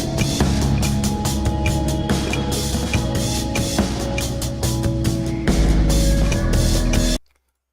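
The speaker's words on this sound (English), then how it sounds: "I downloaded a Splice Stack I made on my birthday, actually, which sounds like this." A self-made Splice Stack music sample plays back as a dense, loud mix with steady beats and layered tones, shifting to a heavier bass section near the end before cutting to silence.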